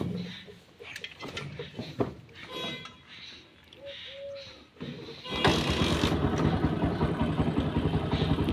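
A motorcycle loaded with crates in a rural farm setting is kicked over with some clicks and knocks, then the engine catches and settles into a steady, close idle rumble.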